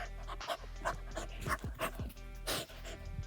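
A dog panting steadily during paw-command training indoors, quick rhythmic breaths at close range with occasional snuffles and small vocal sounds, no speech.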